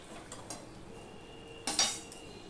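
Metal lid set onto a pan of fried brinjal during cooking, a faint soft clink near the start followed by a sharper louder metallic clatter toward the end, close by with no talk.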